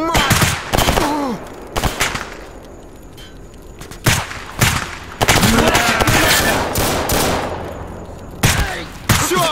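Gunfire in the video game Stalker Anomaly comes as dense automatic bursts and single cracks, loud and close, throughout. Bursts cluster at the start and again near the middle. Shouting voices come through between the shots.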